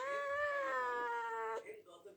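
A long, drawn-out tabby cat meow, loud and close, holding a steady pitch before cutting off, followed by faint rustling.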